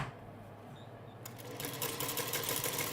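A sewing machine runs steadily while stitching quilt fabric for a Dresden quilt block, its fast, even motor whir picking up speed partway through and continuing close and clear without talk.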